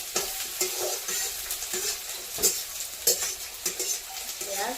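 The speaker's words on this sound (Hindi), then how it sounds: "प्याज अच्छा से लाल होने वाला है, छिटक रहा है।" Onions spluttering and sizzling in a hot pan for chow mein, with a continuous bright hiss broken by frequent sharp crackles and occasional stirring scrapes, close up and without speech.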